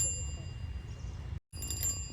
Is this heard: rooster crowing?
no